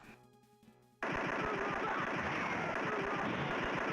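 Rapid machine-gun fire in the arcade shooter Operation Night Strikers, starting abruptly after a second of music and continuing as a dense, loud, evenly paced stream of shots to the end, no talk.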